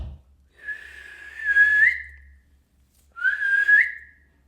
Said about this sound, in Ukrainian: так і утворюється свист